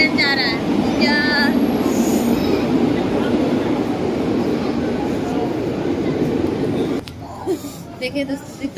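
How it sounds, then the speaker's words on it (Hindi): A train moves past at a railway station, giving a loud, steady rumble of wagons for about seven seconds before it drops away; people talk over it and there is some brief higher squeal or horn-like tone near the start. "ये ट्रेन जा रहा है, इस पर हम बैठेंगे।"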